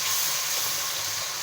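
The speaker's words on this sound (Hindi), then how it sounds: "उसको भी साथ साथ अच्छे से भून लेंगे।" Spices fry with green chillies and coriander leaves in hot oil, giving a brief, steady, close-up sizzle with a bright hiss and no voices.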